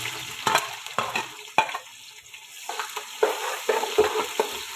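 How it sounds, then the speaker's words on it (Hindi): Onions dropped into hot oil with whole garam masala for a Kashmiri beef pulao, hissing and crackling loudly at first, then settling into a steady sizzle broken by repeated stirring scrapes and clinks. "अब डालते हैं बिस्मिल्लाहिर्रहमानिर्रहीम प्याज।"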